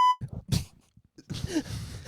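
A short, bright censor bleep tone cuts in at the very start over a swear word, then gives way to scattered mumbled talk and breathy vocal sounds.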